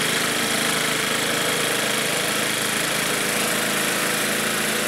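Small Lawn-Boy engine powering a snowblower in cold weather with about two feet of snow, a continuous loud droning run with steady vibration and no pauses.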